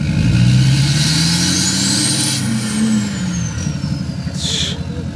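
A pickup truck with an L5P diesel engine, stuck and bogging down, revs loudly and close, its engine pitch rising then falling steadily with a high whine over the heavy rumble.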